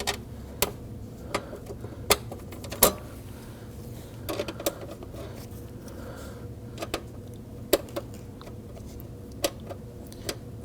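Nuts are started by hand on the fuel pump module of a 2001-2009 Volvo S60 2.5L five-cylinder, with sparse, sharp metallic ticks and clicks at irregular intervals over a low steady background hum.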